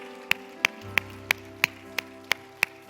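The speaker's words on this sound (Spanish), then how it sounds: "dar un fuerte aplauso al Señor" Sharp, evenly spaced claps ring out about every third of a second, eight in a row, over a sustained low tone and soft background hum in a church setting.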